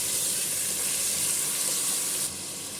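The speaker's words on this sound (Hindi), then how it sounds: "हाई फ्लेम पे इसका कलर बदलने तक के हम इसको फ्राई कर लेंगे।" Meat for banda gosht fries over a high flame, a steady broadband sizzle and hiss that holds loud and even before easing slightly near the end, with no voices.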